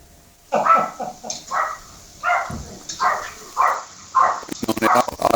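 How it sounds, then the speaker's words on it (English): A dog barks repeatedly in loud, agitated bursts, roughly a bark every half second, with sharper yips near the end; it sounds fairly close and frantic. "that sound like a killer dog, man"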